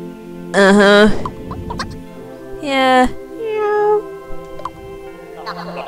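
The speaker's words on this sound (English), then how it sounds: "Meow." Several drawn-out cat meows from the video game Miitopia sound loud and close, spaced a second or two apart over soft background music.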